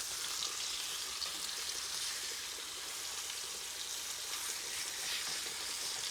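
Butterflied chicken pieces fry in hot oil in a pot, giving a continuous bright sizzle and crackle at moderate level with no voices over it.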